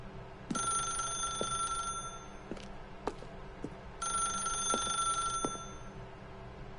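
Telephone ringing in the video game The Stanley Parable: two clear bursts of electronic bell ringing, each about one and a half seconds long, separated by a pause, alongside soft scattered clicks.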